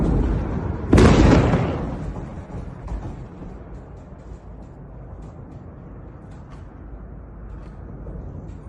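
A large explosion from a bombing attack on a civilian area erupts as one loud, close blast that rolls away into a long, rumbling decay, followed by a fainter secondary boom and steady background rumble.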